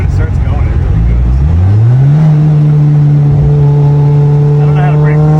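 Turbocharged Mitsubishi Eclipse GSX accelerating hard, its engine note rising steadily in pitch through a single gear and then holding a loud, steady drone up close.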